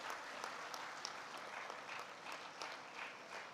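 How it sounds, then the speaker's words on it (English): Steady applause from an audience at a university convocation, a dense even patter of many hands clapping continuously, fairly distant and moderate in level with no voices over it. "Big round of applause."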